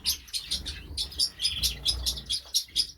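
Star finches in a backyard birdshed give quick, high, bright chirps in rapid repeated bursts, close by and lively over a soft low rumble, with no talking.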